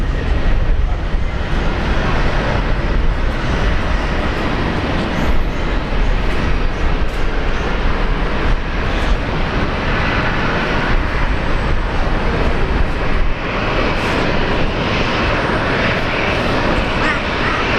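A United Boeing 777 at Brisbane Airport produces a loud, continuous jet roar that rumbles on unbroken throughout, with occasional voices in the background.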